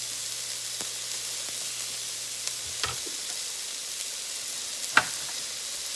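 Diced onion sizzles in a pan for creamy potato soup with a steady, close frying crackle. A few soft clicks of stirring break in, with no one talking.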